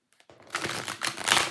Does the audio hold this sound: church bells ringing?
no